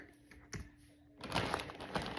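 Collectible snap-in fidget toys clicking at close range, with a few sparse clicks early on followed by a denser burst of rapid clicking and rattling.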